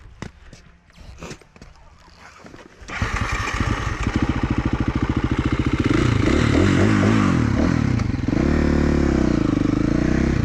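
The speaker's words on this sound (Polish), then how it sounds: "Przydusiłem motor chyba za mocno." Motorcycle engine cranks and then revs hard during a wheelie practice with gear shifting on the back wheel, going from quiet clatter into a loud, rising roar with shifts in pitch that stays close and dominant.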